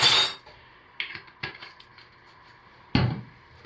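Hot process soap batter stirred in a pot, a few separate scraping knocks and clinks of the utensil against the pot wall, spaced apart with quiet gaps, close and moderately loud.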